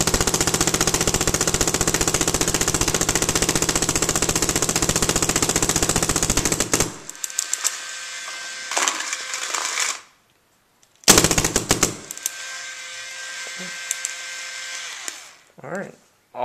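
Etek paintball marker firing in rapid full-auto strings, a loud, dense mechanical rattle that runs steadily, then breaks into shorter bursts and pauses before a final volley.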